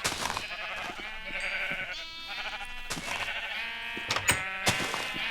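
Sheep in the Minecraft video game bleat repeatedly and close up, their wavering cries overlapping in a steady chorus with a few soft clicks, and no talk.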